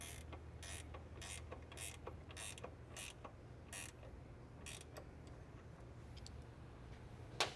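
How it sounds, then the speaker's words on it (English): A 13mm ratcheting wrench retightens a bolt at the fender liner of a 2013 Ford Raptor 6.2L, producing a series of quiet, close clicking ratchet strokes in an irregular rhythm. "you can take your 13mm wrench again and retighten the bolt"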